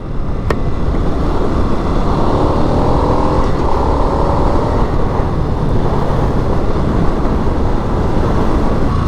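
A 2022 Harley-Davidson Sportster Nightster rumbles continuously at speed on city roads, a loud engine drone mixed with heavy wind noise for the whole stretch, with no talk.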